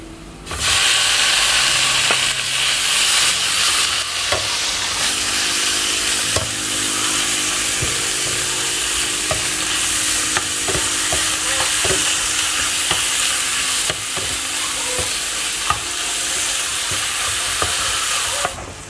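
Sliced pork stir-fried in a hot pan with cooked chillies while making stir-fried instant noodles, a loud steady sizzle and hiss with scraping stirring strokes throughout, no talking.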